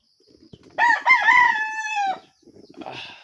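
A rooster crows once, loud and close, its drawn-out call lasting over a second, with faint rustling and shuffling before and after.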